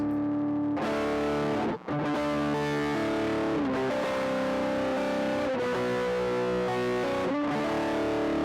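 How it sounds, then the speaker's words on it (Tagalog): Electric guitar played through stacked distortion and overdrive, a thick, saturated sustained tone with held chords and notes ringing continuously and loudly, with one brief dropout near the start. "try naman natin mag-engage ng distortion tsaka overdrive"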